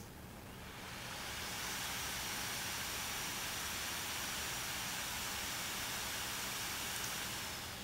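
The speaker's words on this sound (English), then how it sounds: "we can pump them up to max. They do get quite a bit noisy" Cooling fans on an Acer Predator Helios 300 laptop spin up to max speed, rising within the first second or two into a steady, broad whooshing roar that holds evenly throughout.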